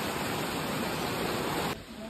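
Water rushes under strong pressure at a point along the Malangad trek, a steady, loud, close roar of broadband noise that holds unbroken before easing slightly near the end.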